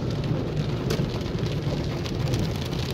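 Heavy rain pours down steadily during a flood, a dense continuous hiss with low rumble and no voices.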